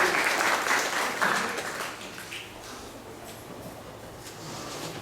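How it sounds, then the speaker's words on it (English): A congregation applauds during a Sunday class at the ISKCON temple in Atlanta; the dense clapping starts full and gradually thins and fades over several seconds. "So let's give a round of applause for their service."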